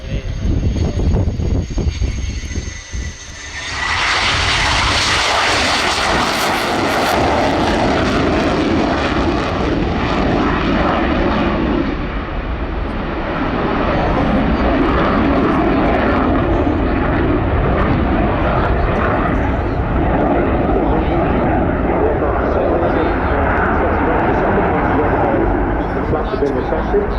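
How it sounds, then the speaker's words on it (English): A fixed-wing aircraft at the RIAT airshow makes a loud high-speed pass. Its engine roar surges in sharply and holds as a dense, sustained blast for over twenty seconds, with people talking underneath. "we're positioning now for a very impressive high-speed pass"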